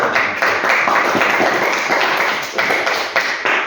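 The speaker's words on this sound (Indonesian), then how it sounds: "tepuk tangan dulu" Participants at the close of a group guidance webinar on suicide prevention break into applause, dense overlapping clapping that stays loud and continuous throughout.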